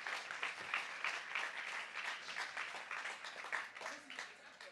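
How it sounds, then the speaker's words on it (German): Audience applause at a science slam, a fairly quiet crowd clapping with uneven, pulsing bursts that may carry some faint voices mixed in. "Dafür bitte einen versöhnenden badisch-schwäbischen Applaus nochmal."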